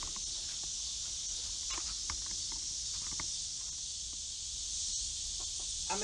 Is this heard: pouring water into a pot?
no